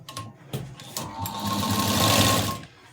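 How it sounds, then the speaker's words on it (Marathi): A sewing machine stitching the lining of a blouse, a few short starts then a steady whirring run of about two seconds, close and prominent, with no talking over it. "शिवून घेऊ."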